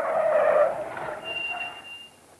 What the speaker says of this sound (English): Almost immediately, a car came to a halt.